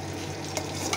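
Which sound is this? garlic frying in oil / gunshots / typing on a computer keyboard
garlic frying in oil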